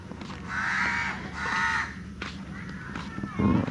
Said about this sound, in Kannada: ಕಾಗೆಗಳು ಕೂಗ್ತಿದೆ, ಪ್ಲೀಸ್ ಡೋಂಟ್ ಮೈಂಡ್.